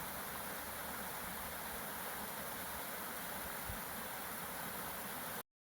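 A creek runs down through a desert canyon with a steady, broad rushing of water that stays even and close the whole time, then cuts off abruptly near the end.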